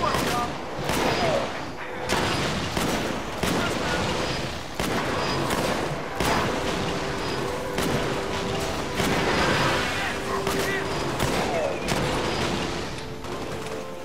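Repeated gunfire in the video game Halo: Spartan Assault, sharp shots in uneven bursts throughout, with explosion-like booms mixed in under a steady game soundscape and occasional talk.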